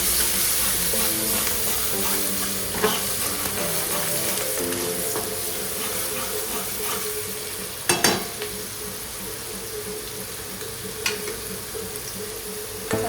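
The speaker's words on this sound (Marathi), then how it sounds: "आपलं हे चांगलं फ्राय झाल्यानंतर, कारण की गरम तेल होतं तर लगेच फ्राय झालं" Paneer cubes fry in hot oil in a pan for a chilli paneer dish, giving a steady close sizzle with occasional clinks and scrapes of a spoon stirring, and no voice.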